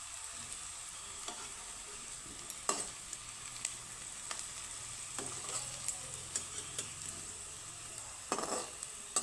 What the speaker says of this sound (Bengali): উল্টে পাল্টে এইভাবে আমি সুন্দর করে লাল লাল করে ভেজে নেব